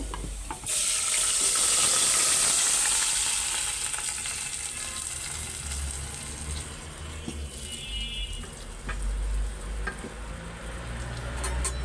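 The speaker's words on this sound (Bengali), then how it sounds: "এটার এখন ভালো করে কষাবো তেলের উপরে কষাবো" Potato ghati and onions sizzle steadily in hot oil for a Bogura-style dish with fish, producing a loud, continuous, close frying hiss with occasional stirring scrapes and no talk.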